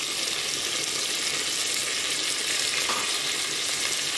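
Mint leaves dropped into a hot pan for mint rice, sizzling and frying in a steady, loud, continuous hiss with no pauses.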